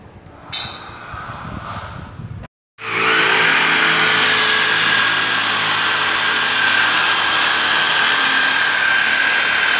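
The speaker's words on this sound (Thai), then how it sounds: "ขั้นตอนต่อไปเขาทำการเจาะรูเลยนะครับ" A power drill bores a hole in a door for a door knob, running steadily and loudly up close after a short quieter start and a brief pause.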